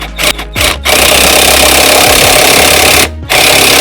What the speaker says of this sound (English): I wanna loosen these lug nuts on the wheel